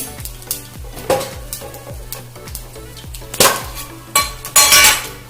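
Ingredients for a crab roast, including cumin, sauté in a pan with a close, crackling sizzle, broken by repeated scraping strokes of a metal spatula and a few louder clanks against the pan.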